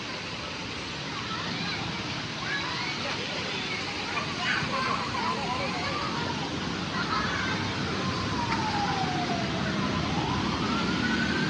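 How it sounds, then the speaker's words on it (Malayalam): An ambulance siren sound effect in a children's indoor play zone rises and falls as a wailing tone over a dense wash of background crowd noise and babble, growing a little louder toward the end. "നമുക്കിത് ഇവിടെ ഒരു ആംബുലൻസ് പോകുന്ന സൗണ്ട് കേൾക്കണ്ട കേട്ടോ"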